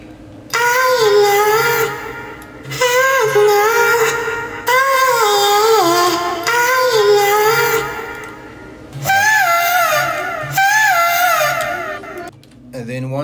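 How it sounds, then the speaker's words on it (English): Sung vocal chops pitched up to a squeaky Mickey Mouse-like tone, arranged as four or five phrases with short gaps between them, loud and close, followed by a brief tail of other sound at the end. "I did add some effect on it just to give it some that Mickey Mouse kind of sound."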